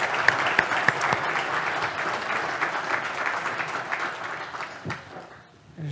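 An indoor crowd gives a burst of applause for an award winner at a ceremony, with dense clapping that carries on steadily and fades near the end.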